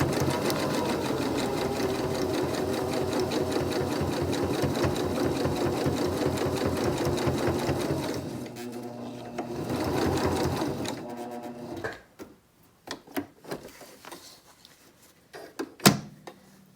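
A sewing machine runs steadily for about eight seconds, stitching over ribbon on a fabric face mask, then briefly runs again before stopping. Scattered handling clicks and knocks follow in the quiet afterward.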